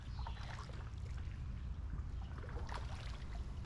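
Faint water sounds of a canoe paddling through a city waterway: soft swishes and gentle trickles over a low, steady background rumble, with no voices.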